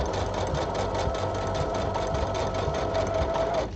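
A sewing machine runs continuously, stitching a seam in a rapid, even mechanical patter. The sound is close and steady, with a faint whine rising near the end.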